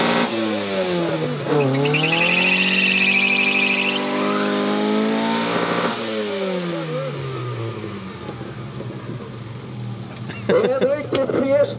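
A Volvo and a Saab doing a burnout at the Vislanda motor show, engines revving loudly with rising and falling pitch and sustained roar, crowd voices and an announcer talking over the noise.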